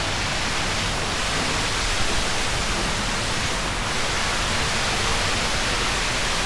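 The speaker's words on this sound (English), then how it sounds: "We arrived at a waterfall." A waterfall in KLCC Park, Kuala Lumpur, pours in a steady, dense, loud rushing roar with no breaks and no voices over it.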